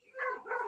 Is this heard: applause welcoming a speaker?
no